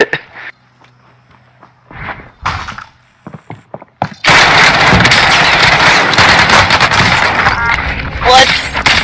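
QBZ rifle fire in the Warzone video game comes as a loud, sustained burst of rapid shots after a few scattered clicks and mechanical thunks, close and dominant for several seconds.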